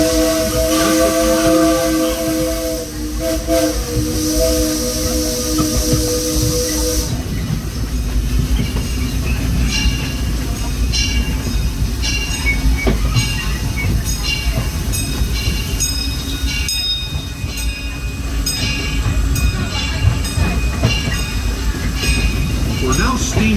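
Disneyland Railroad steam locomotive Ernest S. Marsh running at night, with a loud steam whistle early on, then steady rumbling and clicking of wheels on track as the train rolls along nearby.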